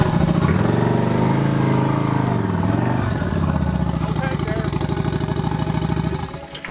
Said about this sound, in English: The one time I turboed a motorcycle.